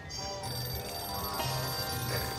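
A telephone rings in the video game Sam and Max Save The World, repeated electronic ringing tones in a steady pattern, fairly loud over a faint background.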